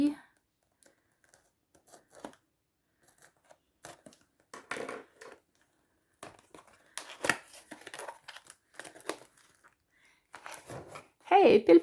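A diamond painting package being opened and unwrapped, with sporadic close cuts, tears and crinkles of packaging between pauses, ending in a louder rustle, with someone talking intermittently.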